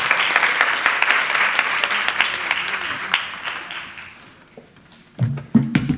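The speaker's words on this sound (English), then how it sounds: "Let's just give another round of applause." Audience applause after a panel presentation at a sickle cell conference, dense clapping that gradually thins and fades over several seconds, followed by a few isolated taps and light handling noises at the end.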